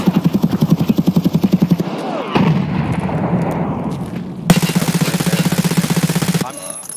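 Automatic gunfire in the video game Escape from Tarkov rattles in two long, loud, rapid bursts, with a brief noisy gap between them.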